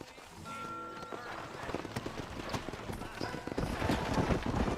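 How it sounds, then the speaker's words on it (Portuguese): Horse hooves clip-clopping in the video game Red Dead Redemption, a quick rhythmic patter that builds and grows louder as the horse moves off, with someone speaking over the start. "É esse cavalinho aqui?"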